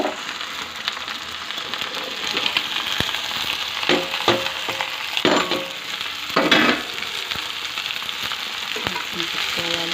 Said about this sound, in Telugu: ఇప్పుడు బెండకాయ ముక్కలు వేసుకుంటున్నాను.